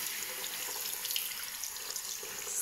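Tap water runs steadily over hands as scrub and dead skin are rinsed off at a sink, a soft, close, continuous hiss of flowing water with light splashing and no talking.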